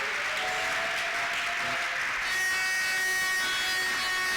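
A church congregation at an Easter service applauds the Lord, sustained dense clapping throughout that swells louder halfway through, with no speech over it.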